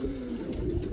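Racing homer pigeons in a loft give a short, low, soft coo that carries across the moment, with no one speaking.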